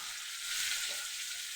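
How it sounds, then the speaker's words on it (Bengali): Spices stirred and frying in a hot pan of onion and garlic, giving a steady close hiss and sizzle with light scraping, continuous and without talk. "এবার এটাকে আমি একটু ভালো করে নাড়াচাড়া করে নিচ্ছি"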